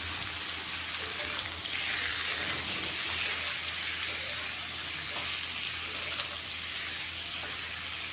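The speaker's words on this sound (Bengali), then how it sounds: "সবজি এখন আমি বসাই দিলাম" Vegetables frying in a pan on a home stove, a steady soft sizzle throughout with no talking.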